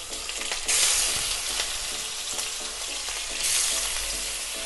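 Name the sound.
rohu fish frying in mustard oil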